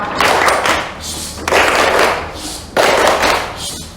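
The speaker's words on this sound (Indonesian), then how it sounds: "3, 2, 1, tepuk diam" Classroom of fourth-grade pupils doing the 'tepuk diam' clapping routine: three loud bursts of group clapping, each starting sharply and fading over about a second, close and lively.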